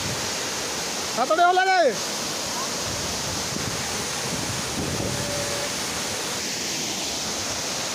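Budingalu waterfall gives a constant broadband roar that fills the whole stretch, with a brief spoken voice rising over it early on.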